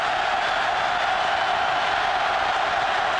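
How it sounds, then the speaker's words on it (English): Stadium crowd at a 2005 Auburn at Georgia college football game, a broad steady roar of distant cheering that stays level throughout, with no clear voice on top. "Crowd coming to life on second down and four"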